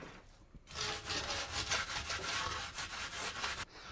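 A wooden float rubs across a freshly laid mortar bed for a tile countertop, giving a close, steady rasping scrape in repeated strokes for about three seconds between quieter moments.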